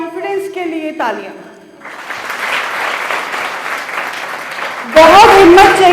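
An audience cheers on the children, with talk for the first two seconds, then a broad wash of clapping that swells sharply louder near the end.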